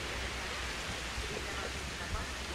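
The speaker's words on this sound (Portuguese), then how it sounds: "Começou a tempestade." Steady broadband rain hiss from a storm in the game Jurassic World Evolution, a constant wash of falling water with faint low rumbles underneath, no talking.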